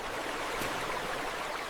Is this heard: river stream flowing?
yes